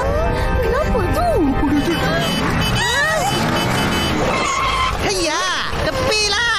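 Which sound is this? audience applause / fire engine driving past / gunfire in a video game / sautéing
fire engine driving past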